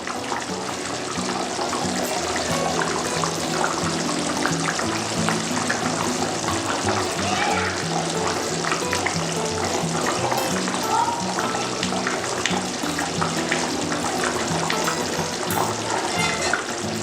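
Nellore-style chapala pulusu, a fish curry with mango pieces, bubbles and simmers in a pot, a steady loud wash of bubbling and sizzling that runs throughout.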